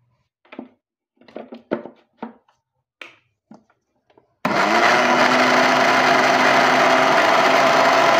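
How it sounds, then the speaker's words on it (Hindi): A few light taps and clicks, then an electric mixer grinder starts abruptly grinding dried mushrooms and runs loud and steady with a high whirring roar. "बस एक मिनट में मैं इसे ग्राइंड करता हूँ"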